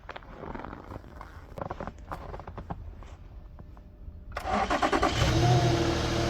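SUV engine cranking and firing up after a battery replacement in cold weather: a few seconds of quiet ticking and handling, then the starter catches and the engine roars to life, revving loudly up close.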